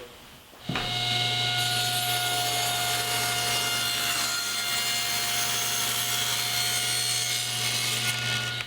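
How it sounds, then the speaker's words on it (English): A table saw spins up with a sharp start, then whines steadily and loudly as it resaws a wooden board for several seconds. "Raise the blade. And resaw the board."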